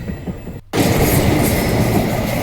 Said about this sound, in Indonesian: Kereta apa ya, mungkin ini Parahyangan ya